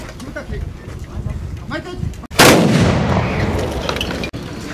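Musket volley from the Battle of Sekigahara reenactment at the 410th anniversary festival, a single loud burst crashing in after steady narration and rumbling off for about two seconds before cutting out.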